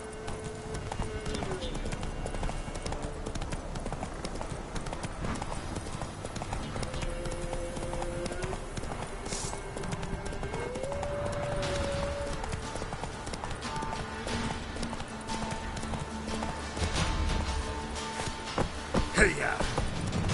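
Roach, the horse in The Witcher 3, galloping with steady rhythmic hoof clip-clops over continuous game music and ambience; a voice shouts briefly near the end.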